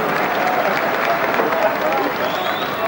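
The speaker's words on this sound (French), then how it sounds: "Et le public anglais qui applaudit" An English football crowd applauds at a match, a dense, sustained wash of clapping and murmuring from a large stadium audience, steady and loud throughout.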